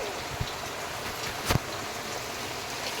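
Steady rain falls outdoors as a soft, even hiss throughout, with a couple of brief louder patters or knocks breaking through.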